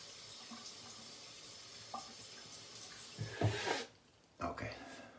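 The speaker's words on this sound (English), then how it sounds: "Wet the face." Running tap water splashes for about a second while the face is wet before a shave with Body Shop's Maca Root cream, then cuts off, with a brief trickle afterward and low background sound.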